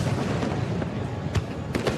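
Fireworks going off as part of a July display, a dense, continuous rumble of bursts with a few sharper cracks standing out near the end, heard at a distance with no talking.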